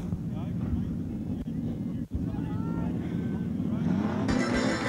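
A street stock race car rolls past during the grand parade at Ellenbrook Speedway, its engine a steady loud rumble under a commentator's voice, with wind noise buffeting the microphone.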